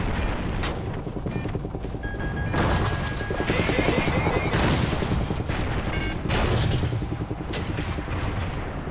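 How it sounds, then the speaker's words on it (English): Enemy anti-aircraft fire in Call of Duty Ghosts, dense crashing bursts and rumbling booms over a continuous aircraft roar, loud and chaotic with brief radio-style voices. "We're still taking enemy AA fire from behind the smokestacks."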